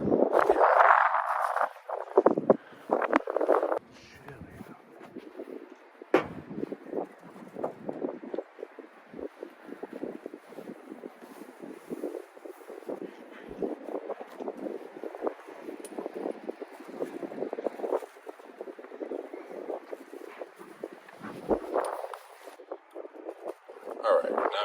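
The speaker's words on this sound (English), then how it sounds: "The wind." High wind blows steadily across an overnight truck campsite, a continuous rough rushing and buffeting that stays loud throughout, with a voice speaking at the start.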